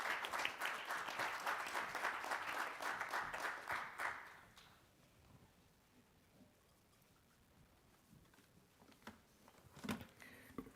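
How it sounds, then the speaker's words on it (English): Audience applause for a conference panel, a dense wash of clapping through the first four seconds that then stops, leaving quiet room tone with a few isolated claps near the end. "if you can give your applause to them"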